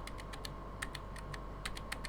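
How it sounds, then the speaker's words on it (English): Light tapping on a computer keyboard, a few quick clicky keystrokes close by against faint background hiss, with no talk. "I press A with the keyboard."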